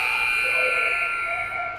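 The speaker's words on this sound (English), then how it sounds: "Shot at the buzzer" A hockey game buzzer sounds at the end of a period, a steady, loud electronic tone that holds for nearly two seconds and then tapers off slightly.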